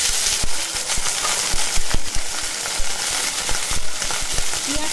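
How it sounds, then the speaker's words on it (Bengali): Crushed garlic and onions frying in hot oil for egg chochhori, a bright continuous sizzle broken by repeated sharp clacks of a spatula stirring against the pan, loud and close. "পেঁয়াজটা একটু নেড়ে নেব।"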